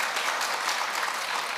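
An audience applauding a debate team at a youth debate final, steady dense clapping throughout, moderately loud and without talk.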